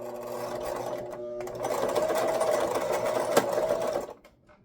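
A home sewing machine stitches steadily for about four seconds in a quiet room, its motor whirring fairly loud and even before stopping abruptly near the end.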